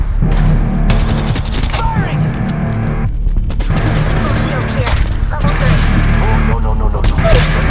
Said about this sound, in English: We got fire coming our way.